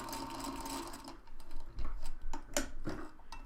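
A sewing machine stitching pieced fabric hexies along a line, a close rapid mechanical whir that runs, pauses briefly and resumes in short bursts.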